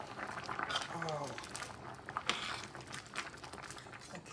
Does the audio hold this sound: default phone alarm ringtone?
no